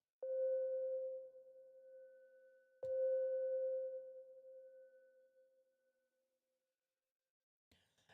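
A PS Khagan synthesizer plays with its low-pass filter cutoff applied. Two sustained mellow tones ring out one after the other, each fading slowly, followed by a faint click at the end.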